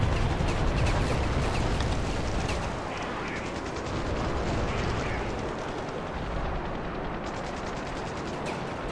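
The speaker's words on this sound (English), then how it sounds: "just had two, three A10 strafes back to back" Heavy battlefield din in Ravenfield: A-10 strafing runs rip across the sky in dense bursts of cannon fire with rumbling explosions, loud and continuous throughout, with brief crackling gunfire and faint voices beneath.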